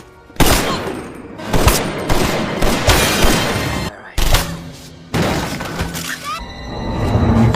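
Bursts of gunfire and crashing impacts from the action film Die Hard tear through loud, dense stretches broken by brief pauses, with voices faintly mixed under the chaos.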